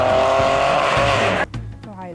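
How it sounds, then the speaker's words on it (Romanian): Dacia Sandero rally car at a rally event, engine roaring loud and close with tire squeal, then the sound cuts abruptly to a quieter passage with a voice speaking. "Numărul 35, Cristiana Oprea, Diana Hasegan, Dacia Sandero."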